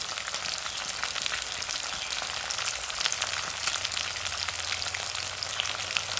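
Small puthi fish fry in hot oil in a pan over a medium flame for an Assamese recipe, giving a dense, continuous hiss and crackle that stays steady and close throughout, with no talking.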